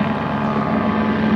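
A helicopter drones steadily and loudly overhead at a water park, a dense continuous rotor and engine roar with a low steady hum and no voices.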